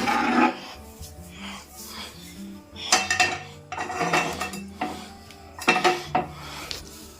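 In a home kitchen, a pan is set on the stove to fry egg bhujia: metallic clanks, scrapes and clinks of cookware come in uneven bursts, close and fairly loud, with no talking.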